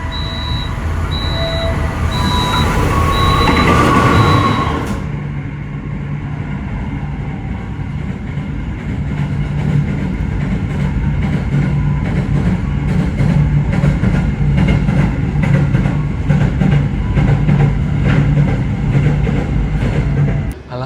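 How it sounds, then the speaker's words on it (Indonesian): Jaka Tingkir passenger train departing Purwosari station at night: a level-crossing bell rings briefly, then a loud steady rumble of rolling carriages continues nearby with faint clatter. "Jadi baru saja kereta Jakatingkir diberangkatkan dari stasiun Purwosari kira-kira pukul 11 malam."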